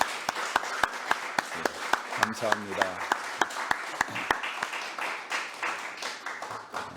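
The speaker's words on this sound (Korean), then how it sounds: "다시 한번 힘찬 박수를." Church congregation applauding during a Sunday service after a choir's hymn: sharp, fairly even hand claps continuing for several seconds at moderate loudness, with a man's brief spoken thanks over them.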